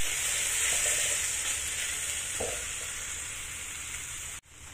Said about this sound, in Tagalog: fry lang natin yan ng mga 2 minutes